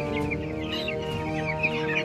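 Young chicks in a poultry pen cluck and peep steadily while pecking at feed, a dense continuous chorus of small calls over a constant low background hum.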